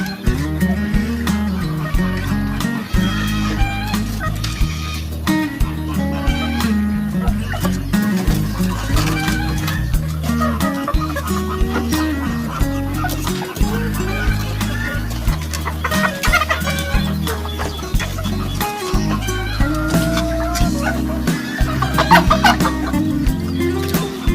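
Large laying hens cluck continuously in a busy, close chorus, with overlapping calls and occasional louder squawks.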